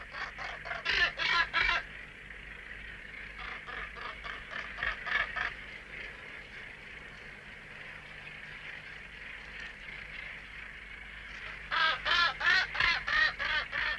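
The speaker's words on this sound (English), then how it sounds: "This display of mated gannets is among the most magnificent spectacles of the bird world" A mated pair of gannets in courtship display at a British seabird colony give harsh, rapid honking calls in two loud repeated bursts at the start and end, with quieter calling between.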